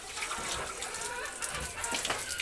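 Water splashing and pouring while a pig is bathed, a steady wash of gushing liquid with irregular louder splashes, fairly quiet and without talk.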